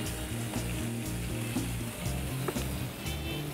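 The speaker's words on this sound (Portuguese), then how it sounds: "Não mexe na carne, deixa ela quietinha fritando para não criar água." Meat fries in a pan for Taiwanese-style noodles, a soft steady sizzle close by and left undisturbed. It sits under louder background music that plays throughout.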